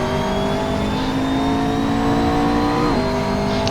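A McLaren race car engine screams at high revs on the Nürburgring GP circuit, a loud, steady, close whine with a sharp pitch drop near the end as it shifts or lifts, and no voices heard.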